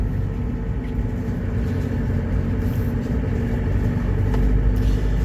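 A 2017 Isuzu Crosswind XL with a turbocharged 2.5-liter direct-injection overhead-valve diesel, held in second gear through a subdivision loop, gives a steady, coarse low rumble that stays loud and even throughout, with no voices over it.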